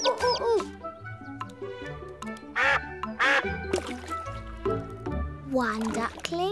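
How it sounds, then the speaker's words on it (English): Cartoon ducklings quack in bright, high, repeated calls, mixed with cheerful voices and light music in an animated children's show. "One duckling."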